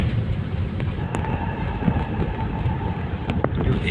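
An MRT train rumbles past along EDSA near Megamall with a steady low roar and faint metallic squeals, mixed with distant traffic noise.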